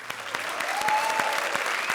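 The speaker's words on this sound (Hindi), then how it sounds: "तालियां वसंत के लिए" Studio audience applauding on a Diwali-special comedy show, a dense, steady wash of clapping that stays loud through the whole stretch with no talk over it.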